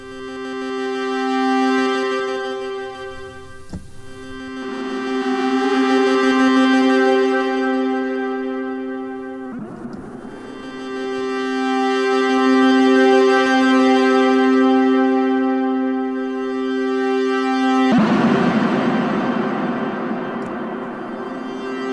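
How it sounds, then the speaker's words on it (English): Sustained synthesizer tones swell and fade in long washes, each note trailing into layered reverb, with a brighter, noisier burst toward the end. "let's do a small reverb into a big reverb. Let's combine reverbs."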